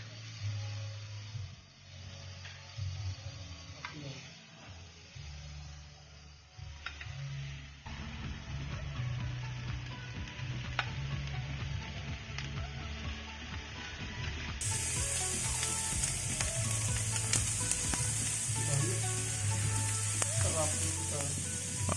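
Chopped chicken intestine sisig sautés in melted margarine, a steady sizzle and crackle of frying that grows louder and denser as it cooks, with occasional scraping and clinking of a utensil against the pan.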